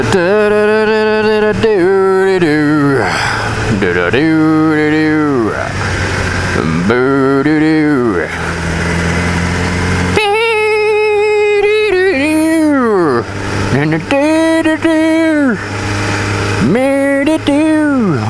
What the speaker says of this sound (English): It's just such a clean sounding exhaust.